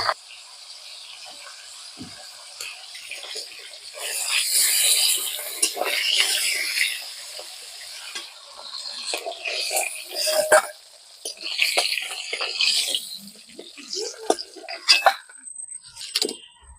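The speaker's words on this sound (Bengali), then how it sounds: "এই তেলে এবার মাছের মাথাগুলো ভেজে নেব।" Rohu fish heads fry in hot oil in a pan, giving a close crackling sizzle that swells and fades in waves, with sharp pops scattered through it.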